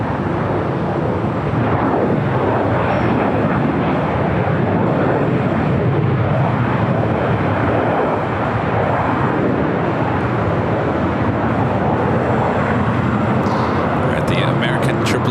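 An American Airlines Boeing 777-300ER jet taking off at LAX, a loud continuous broadband engine roar that stays steady throughout, with a voice speaking over it near the end.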